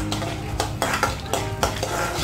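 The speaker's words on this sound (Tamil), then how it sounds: "ஸோ இதெல்லாம் சேர்த்து 1 நிமிஷம் வதக்கிடலாம்" Spices and two dried red chillies being sautéed in a pan for a South Indian lunch, loud close sizzling with repeated scraping strokes of a spoon against the pan in a loose rhythm.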